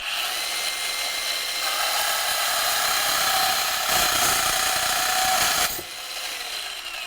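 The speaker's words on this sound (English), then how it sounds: "you can see how fast it cuts rebar" A BN Products portable saw cuts through rebar with a loud, steady high-pitched grinding whine that intensifies mid-cut, then drops to a lighter idle as the cut finishes.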